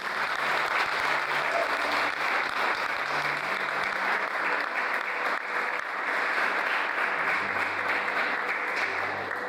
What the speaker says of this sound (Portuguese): você aplaude o Senhor pela vida dele